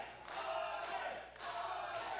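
A wrestling crowd at a UCW-Zero show roars and cheers loudly for a Viking-styled wrestler in the ring, a sustained dense wall of noise that swells, dips briefly and surges again.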